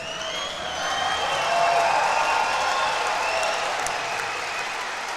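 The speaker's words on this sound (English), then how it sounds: "the crowd fires up with a roaring applause" A weightlifting championship crowd roars with applause, a dense, sustained wash of clapping and cheering that swells to a peak and then holds steady throughout.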